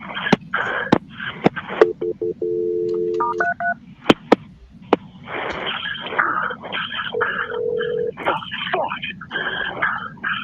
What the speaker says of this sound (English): Let me get the fire department on the phone to help you